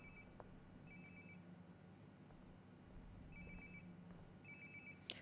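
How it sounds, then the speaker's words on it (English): A cell phone ringing nearby in the video game Life Is Strange: Before the Storm, with short repeated bursts of electronic ringtone separated by pauses over a quiet room hum. "Sounds like my phone is definitely nearby."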